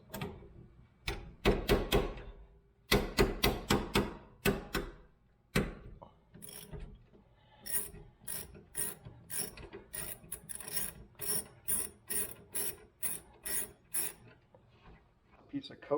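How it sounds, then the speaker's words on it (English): A ratchet wrench backs out two bolts on the rear brake of a 2000 Acura 3.2 TL, with rapid pawl clicking in repeated bursts, close and loud, broken by brief pauses between strokes. "Just going to remove these 2 bolts."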